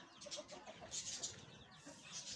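Broody Aseel hens give soft, short clucks in quick bursts, fairly near but quiet, with a few sharper squawks among them and no talking.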